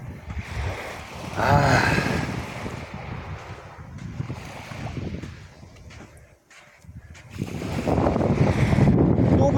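Strong wind buffets the microphone on an island shore in loud, surging gusts that swell and fade, with a short lull in the middle before rising again.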